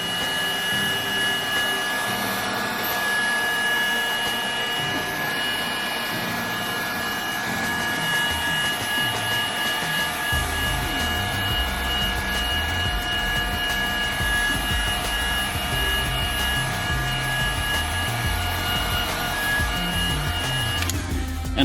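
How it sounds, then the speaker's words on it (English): A heat gun blows steadily while drying and curing a freshly sprayed leather repair on a car interior, a continuous loud whir with a high whine, deepening into a heavier rumble midway, with no talk. "by curing it like that with the heat gun, it's actually bonding even more"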